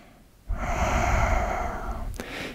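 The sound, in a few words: full breath during yoga exercise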